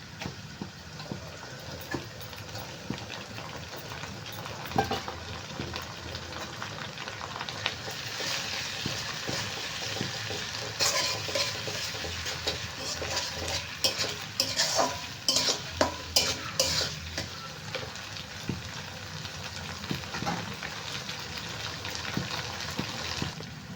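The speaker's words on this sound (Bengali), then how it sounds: "পেঁয়াজটা হালকা করে ভাজা হয়ে গেছে আর এখানে আদা রসুন আর কাঁচা লঙ্কা বাটা আমি দিয়ে দিলাম" Sliced onion sizzles in hot oil as ginger, garlic and green chili paste goes in, with a spoon stirring and scraping the pan in bursts over a steady frying crackle, growing busier midway.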